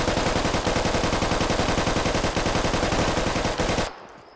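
Machine gun suppressive fire in the military shooter Squad, a long unbroken stream of rapid, evenly spaced loud shots lasting several seconds before abruptly stopping.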